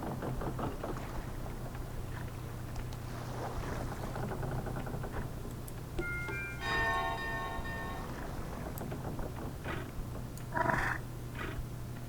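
A bell rung in the video game Kingdom Two Crowns chimes with a bright, ringing tone over a low steady game ambience, its strikes clustered midway through and fading out.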